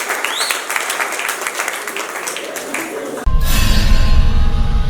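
A talent show semi-final audience claps and cheers, a dense spattering applause that suddenly swells louder with a roaring crowd and music near the end.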